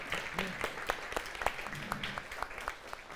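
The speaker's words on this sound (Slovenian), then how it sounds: "En aplavz, prosim, za njo." An indoor lecture audience applauds a speaker being introduced, a dense patter of many hands clapping steadily for about three seconds with no voices over it.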